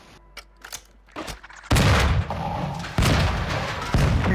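In Call of Duty DMZ, an RGO grenade goes off with a loud, close blast after a few scattered sharp shots. A rumbling roar follows, with two more heavy bursts punching through.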